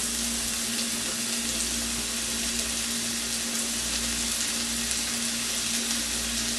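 Red snapper sarciado cooks in a pan with a steady, even sizzle and frying hiss, a constant close bed of cooking noise with no talk over it.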